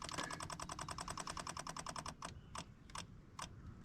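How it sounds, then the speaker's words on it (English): Fuel pump on a Honda FourTrax ATV running, a rapid, regular ticking buzz that slows to a few spaced clicks, quiet and close. "Fuel pump on."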